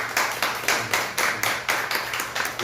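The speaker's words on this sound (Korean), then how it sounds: "우리 목사님 사역 열심히 하셔서 박수 한번 해드립시다." A church congregation applauding in a rhythmic, even clap, about five beats every two seconds, steady and moderately loud with no voices over it.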